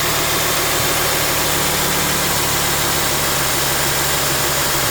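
Engine of a 2008 Lexus GS350 idling after a valve cover gasket replacement, a steady even hum with a low vibration, continuous and close with no speech.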